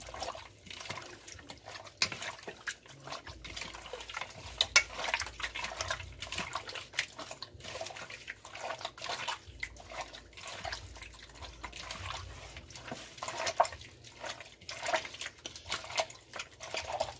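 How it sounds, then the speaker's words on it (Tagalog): Grilled pork liempo is stirred in barbecue sauce, soft wet squelching and sticky dripping sounds repeating close and quiet, with no talking. "ihalo lang natin guys hanggang i-absorb yung sauce. Ma-absorb yung sauce doon sa meat."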